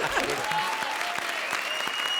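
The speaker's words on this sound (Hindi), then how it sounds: "ताली के बजा रहे हो?" Studio audience at a comedy show claps in a brisk, continuous burst, close and lively, with a faint bit of crowd noise mixed in.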